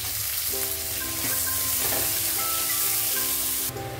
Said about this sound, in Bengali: এখন আমি দিয়ে দেবো কুচনো পেঁয়াজ। 2টো পেঁয়াজ দিয়ে দিচ্ছি কুচনো।